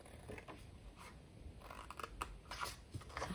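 Scissors snip through paper card up to a score line while an envelope insert is being made. The cuts come as a quiet series of close, crisp clicks and crunches in a still room.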